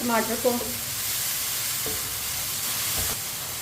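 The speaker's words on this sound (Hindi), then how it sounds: "अब इसे 2 मिनट के लिए चम्मच चलाते हुए पका लेते हैं।" Tomatoes and green chilli fry in a pan while a spoon stirs them, giving a soft close sizzle with a few scraping strokes, quiet and without speech.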